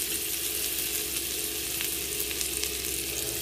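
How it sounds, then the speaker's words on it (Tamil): Butter melts on a hot griddle stone for a mushroom omelette, giving a steady, close sizzle with soft crackles throughout and no talking. "பட்டர் போட்டுக்கலாம். பட்டர் நல்லா உருகட்டும்."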